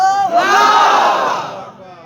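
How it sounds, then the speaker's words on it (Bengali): Large crowd at a religious gathering shouting the takbir in unison, a loud sustained roar of many voices that swells and then fades over about two seconds. "তাকবীর দেন দেখি নারে"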